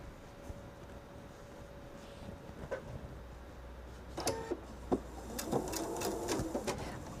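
A sewing machine stitches a jelly roll purse, running in soft bursts of rapid mechanical clatter with pauses between, fairly quiet and close, no voices.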